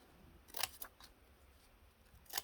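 Craft scissors with toothed decorative blades snip through paper, giving three short, crisp cutting sounds at uneven intervals, quiet and close with no talk.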